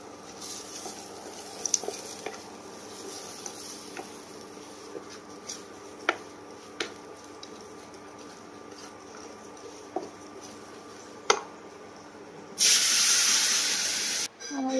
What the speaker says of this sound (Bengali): এখানে অমলেট বসিয়েছি